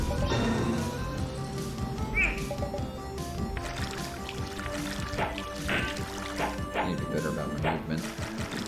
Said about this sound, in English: Wasting some movement walking through the water.